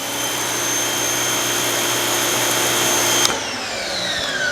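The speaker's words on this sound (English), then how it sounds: "I'm gonna go ahead and take the 0-degree nozzle just to confirm that this is the exact same orifice size" An Active 2.0 electric pressure washer sprays through a red 0-degree nozzle, giving a loud, steady high-pitched hiss and whine that cuts off abruptly near the end, leaving a fading motor tone.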